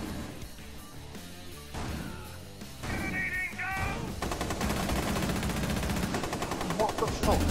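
Gunfire in Rainbow Six Siege as an operator storms in with a shotgun, with several loud sharp blasts and rattling shots over a busy battle soundscape that swells and thickens in the second half.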